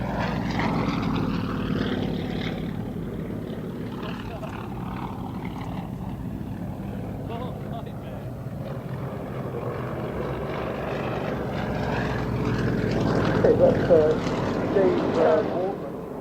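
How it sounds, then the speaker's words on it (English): A Russian Yak-50 single-seat aerobatic plane with a 9-cylinder, 300-horsepower radial engine drones steadily, its rough propeller roar swelling slightly toward the end under faint voices. "they're flying the Russian Yak-50 single-seat aerobatic aircraft powered by a 9-cylinder 300 horsepower"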